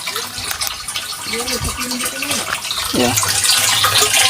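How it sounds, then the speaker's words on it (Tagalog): Strong water flow gushes from a pipe on a high mountainside, a loud continuous rush that swells near the end, with people talking over it. "So, ayan yung tubig guys. Malakas diba?"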